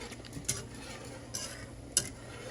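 Peppers being stirred into simmering pork chop gravy in a pan, with faint spoon scrapes and clinks at a few points over a low steady background.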